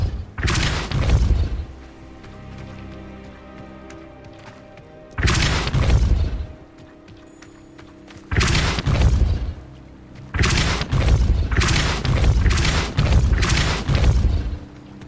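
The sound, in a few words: Depulso spell blast in a video game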